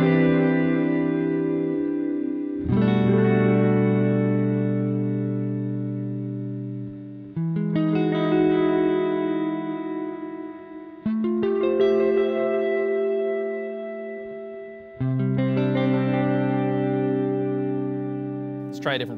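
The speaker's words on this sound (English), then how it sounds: "it's a reverb pedal that gives you huge, washy, beautiful ambient reverbs" An electric guitar through an Eventide Black Hole reverb pedal rings out in long sustained chords, each swelling into a huge, washy ambient tail that blends into the next strum.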